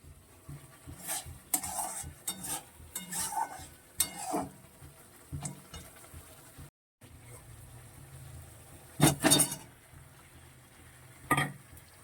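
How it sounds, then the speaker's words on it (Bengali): Spice paste (masala) for potol dolma frying in oil in a pan, with repeated bursts of scraping and stirring over a steady sizzle and a short pause midway. "এখানে মশলাটা প্রায় কষানো হয়ে এসছে, একটু আর একটু তেল ছেড়ে দিলে এগুলো দিয়ে দেবো"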